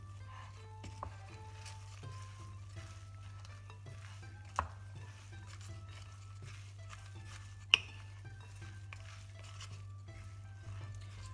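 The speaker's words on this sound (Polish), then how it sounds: "Oraz również wcześniej odcedzony makaron sojowy. Całość dokładnie mieszamy." Soy noodles, mung bean mushrooms and fresh vegetables are stirred together in a bowl as filling for cold spring rolls: quiet, soft mixing sounds with a couple of sharper clinks, and no voices.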